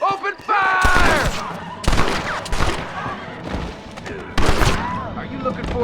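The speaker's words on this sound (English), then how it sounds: "Open fire!" Gunfight in the Western video game Red Dead Redemption: bursts of rapid gunfire break out in several volleys over about six seconds, loud and close, with shouted voices over the shooting.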